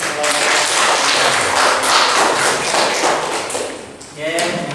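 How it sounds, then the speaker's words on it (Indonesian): Audience applause after a classroom accounting presentation, steady broadband clapping filling the room for several seconds, tapering near the end as a voice begins speaking. "Oke, tepuk tangan."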